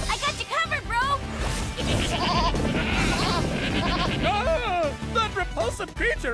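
Cartoon goats bleat in wavering, repeated cries amid a frantic animated scene, mixed with shouting voices, impact noises and a busy soundtrack.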